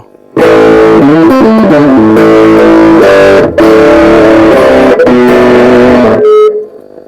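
An electric guitar plays loud, heavily distorted chords through a Marshall 8010 amplifier from England, with bass added and a little midrange and treble. It rings continuously for several seconds, then cuts off.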